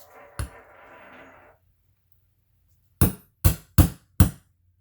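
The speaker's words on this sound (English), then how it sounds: "I use my hole punch for leather just to punch holes right through it" A brief clack and a low murmur, then after a pause four sharp, evenly spaced hammer strikes on a leather hole punch driven through leather, close and loud.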